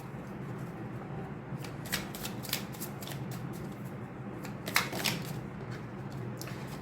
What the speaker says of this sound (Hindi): मैं सारे कार्ड्स पहले शफल कर लेती हूँ